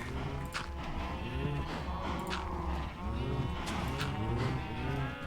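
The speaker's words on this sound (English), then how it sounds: "Hey, some cows, come in here. There's too many cows." Many Minecraft cows crowded together in a video game, lowing in overlapping, drawn-out moos that continue without a break, fairly loud and close.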